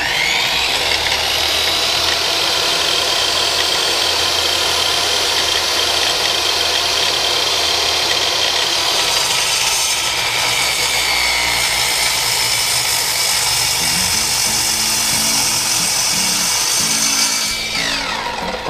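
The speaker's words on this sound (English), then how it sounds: "We'll go ahead and get that cut. Going to use an old miter box I keep around the house just for this purpose right here." An old hand saw working through scrap in a miter box to cut a sinker mold, a loud continuous rasping drone close by that shifts in pitch midway and ends sharply.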